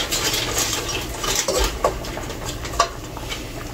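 Sautéed mung beans seasoned with garlic powder are stirred in a hot pan, giving a steady scraping and sizzling texture with a few sharper utensil clinks against the pan, close and moderately loud with no talking.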